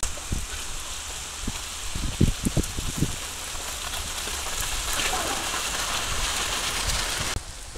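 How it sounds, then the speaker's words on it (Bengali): Rain falls steadily on an outdoor village cooking area with a wet earthen stove, a close hiss of drops mixed with scattered louder taps and knocks early on. "এই যে বৃষ্টি পড়তে আছে"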